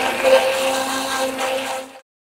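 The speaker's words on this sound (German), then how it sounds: "Für den Schaum habe ich den Handmixer, mit dem ich versuche, so viel wie möglich Luft einzuarbeiten." Hand mixer whipping tomato foam, a steady whirring motor with a constant tone that runs evenly for about two seconds, then cuts off abruptly into silence.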